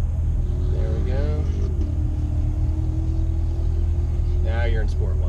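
A 2017 Chevrolet Corvette Grand Sport rumbles from inside the cabin on a race track, a steady low engine drone beneath people talking.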